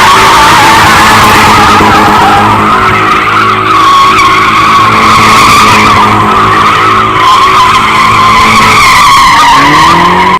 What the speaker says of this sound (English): Here's a clip of it doing some donuts.